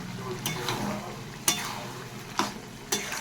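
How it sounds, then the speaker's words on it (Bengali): A mixture is stirred and fried in a pan with oil, giving a soft steady sizzle broken by a few sharp scrapes and knocks of the spoon against the pan, close and fairly quiet. "ভালো করে মাখা হয়ে গেছে, বেশ ভালো করে নাড়াচাড়া দিয়ে একদম ঝুরঝুরো করে নামিয়ে দেবো।"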